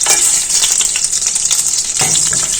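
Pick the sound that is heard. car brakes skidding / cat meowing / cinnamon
cinnamon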